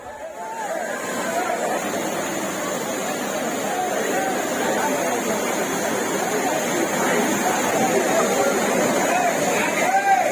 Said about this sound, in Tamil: குற்றால அருவிகளில் விடுமுறையை கொண்டாட அலைமோதும் மக்கள் கூட்டம்.